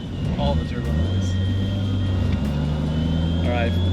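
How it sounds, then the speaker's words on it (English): A turbocharged car running on ethanol idles close by with a steady low engine hum and a faint whistling turbo whine layered over it, continuous and fairly loud. "All the turbo noise."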